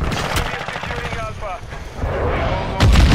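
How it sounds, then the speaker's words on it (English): Rapid chaotic gunfire from a first-person shooter match on the cramped Shipment map, bursts of automatic weapons overlapping near and far, with a heavy boom at the end and a voice faintly under the din. "I'm just shooting blind right now"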